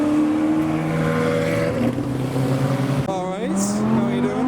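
Ferrari 360 Challenge race car pulling away from a car show, its engine note loud and rising with a shifting pitch sweep near the end, amid crowd chatter and other motors nearby.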